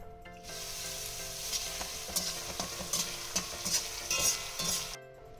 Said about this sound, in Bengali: এবার আমি ভেজে নেব খোয়া ক্ষীরটা, একটু ভেজে তুলে নেব।